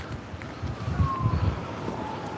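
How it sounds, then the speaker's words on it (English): Steady wind of about 35 mph buffets the microphone with a low, rough rumble, fairly loud and continuous throughout, during cold-weather fishing. "A little bit windy."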